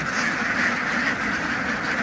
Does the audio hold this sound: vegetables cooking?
no